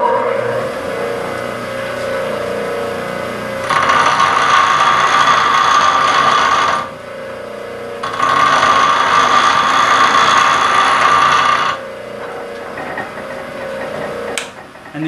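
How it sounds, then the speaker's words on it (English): A woodturning roughing gouge pressed against a bench grinder wheel, two sustained bursts of harsh, loud grinding over the steady whir of the spinning motor, with a quieter pause between them. "I'm going to do another quick grind so you get a feel."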